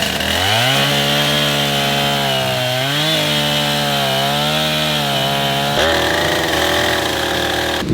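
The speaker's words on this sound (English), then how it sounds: "It's finally time to put this chainsaw to some real use." Chainsaw cutting through a tree felled by cattle farmers in the Panamanian jungle, a loud continuous engine whine that rises and falls in pitch as the chain bites into the wood, running close up and uninterrupted with no voices.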